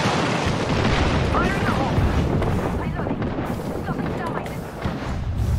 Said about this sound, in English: I trapped myself with my own artillery. Start blowing up